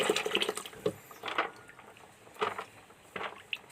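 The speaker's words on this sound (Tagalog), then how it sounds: "Huhugasan lang natin mga idol." Freshwater snails are washed in water with several short bursts of swishing and splashing and quiet gaps between them, close and fairly soft.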